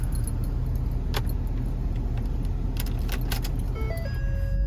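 Keys jangle and click as a key is turned in the ignition of a 2011-16 Ford Powerstroke diesel truck, a few sharp metallic taps over a steady low rumble, followed by faint electronic chime tones.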